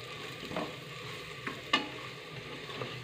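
Spice masala with coriander powder and garam masala fries over medium heat in a pan while a spoon stirs it, making a quiet sizzle punctuated by a few soft scraping clicks.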